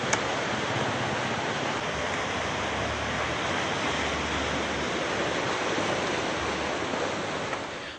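Surf at Pasar Bawah beach in Kota Manna, Bengkulu, rolling as a constant, dense wash of breaking waves with no voices, fading slightly at the very end.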